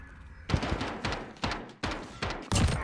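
Gunfire from Call of Duty Modern Warfare during a 2v2 Gunfight match: about five loud, sharp shots at irregular intervals, each with a booming tail, close and alone without talk.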